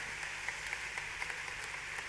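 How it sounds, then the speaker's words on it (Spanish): Congregation applauding for Jesus during a Sunday morning church service: a steady, dense wash of many hands clapping, moderately distant, with scattered sharper claps rising above the continuous patter and no voices. "más fuerte ese aplauso a Jesús"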